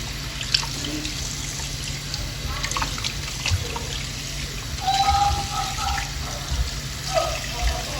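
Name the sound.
water rinsing turkey wings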